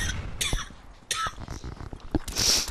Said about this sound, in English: somehow I randomly got a chest cough thing